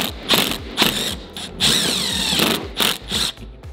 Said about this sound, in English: I'm really about to drill through this lock right now.